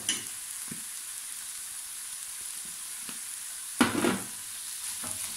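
Ground meat seasoned with pepper, salt and paprika cooks in a pan, giving a faint, steady sizzle with a few quiet scrapes and one fuller burst of stirring toward the end; no one speaks.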